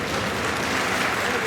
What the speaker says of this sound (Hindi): आप अपनी तालियों के प्रणाम मंच तक पहुंचाएं।